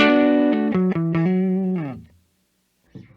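A distorted Donner DLP-124 single-cut electric guitar on its neck pickup plays a few sustained, deep notes with slides and bends, ringing out before fading to near silence.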